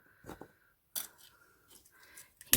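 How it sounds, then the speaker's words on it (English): Scissors snip off excess tulle ribbon on a handmade hair bow, a few short crisp cuts spaced out over a quiet background, close and alone. "cut the little extra down"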